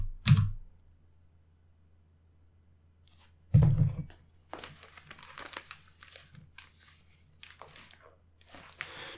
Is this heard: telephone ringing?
no